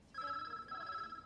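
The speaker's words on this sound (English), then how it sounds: "The phone kept ringing and I kept answering it" A telephone rings with a steady electronic trill that begins abruptly and holds for about a second, sounding moderately loud in a quiet room.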